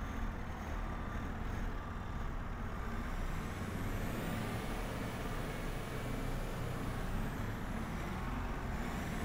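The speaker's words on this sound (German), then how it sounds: "Da kommt jemand mit dem Truck hier an." Heavy truck rolling in within the farming game Farmer's Life, a steady low engine rumble and broad air-brake hiss sustained throughout, moderately distant and alone without talk.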